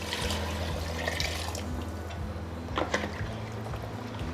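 Yakhni broth poured into a pan of frying mutton trotters, a faint splashing trickle and bubbling over a low steady background hum.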